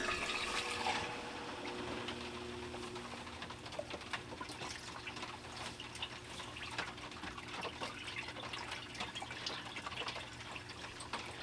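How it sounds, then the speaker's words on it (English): Water runs steadily through a plugged-in recirculating toolbox gold sluice, a constant close trickle and splash with scattered drips falling back into the tub below. "Now you may get a little bit of drip through, but that's perfectly fine because everything's just going to drip right back down into the tub below"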